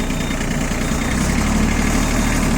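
A Japanese ISEKI SIAL TF223F tractor with a front-mounted attachment idles up close: a loud, continuous diesel rumble with a steady vibrating drone throughout.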